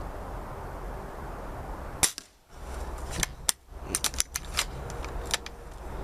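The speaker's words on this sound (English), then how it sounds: "it's an airsoft gun, so it doesn't always shoot perfect" Airsoft rifle shots fired while sighting in a scope, heard as a series of sharp close cracks and snaps in uneven bursts after a quiet start, with small impacts and handling clicks between them.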